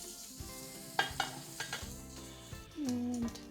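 A salmon fillet frying in a pan after being flipped, a steady soft sizzle with a few clinks of a utensil against the pan and a brief tonal hum near the end.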